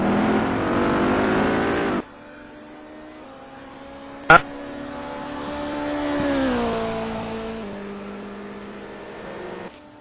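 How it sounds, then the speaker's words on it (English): A touring car in the rFactor racing game at Snetterton, engine roaring hard out of the chicane. The revving drone shifts pitch through gear changes, with a sharp click partway through and commentary running underneath. "Martin now floors it out of the chicane to start his flying lap"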